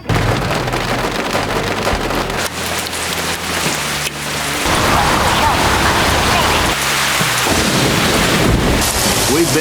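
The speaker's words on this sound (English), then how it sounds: "so we had to find different sounds of rain." Steady rain pouring onto surfaces in a rainy film setting, a loud, continuous hiss with occasional low thunder-like rumbles and some faint background voices.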